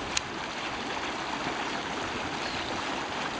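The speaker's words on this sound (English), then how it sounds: "There are specific waterfalls, these little teeny fountains." Small fountains trickle steadily at the Diana, Princess of Wales Memorial Fountain in Hyde Park, London, giving an even, close wash of running water with no pauses and no voices.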